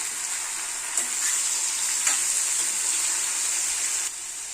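Cleaned, cut mushrooms, about 100 grams, hit hot oil in a pan and set off a steady, bright sizzle that holds for several seconds, with a few soft stirring knocks and then a slight drop in intensity.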